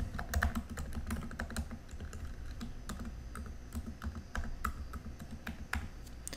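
Domain login credentials being typed on a computer keyboard: a steady run of crisp, close key clicks at an uneven pace, with a few faster bursts and no talking.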